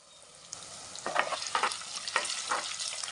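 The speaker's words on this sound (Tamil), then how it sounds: "நம்ம போட்ட இஞ்சியுமேவும் நல்லா முருகலாக வறுத்துருச்சு" Green chillies and ginger frying in hot oil for a fish pickle, a steady close sizzle broken by several louder bursts of stirring and crackle, with no voices.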